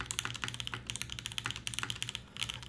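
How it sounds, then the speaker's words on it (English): Mechanical keyboard with a light spacebar, a TKL board built around an Emilia of Re:Zero theme, typed on in a steady run of close, crisp key clacks with occasional softer spacebar thuds and no talking. "the spacebar doesn't sound worse. Spacebar is just light on this."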